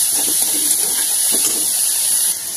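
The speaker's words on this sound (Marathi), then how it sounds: "आता छान परतून घेऊया।" Garlic paste, chopped green chillies, coriander and curry leaves sautéing in a pan for a Marathi-style thecha chutney, giving a steady, even sizzling hiss throughout with no voices.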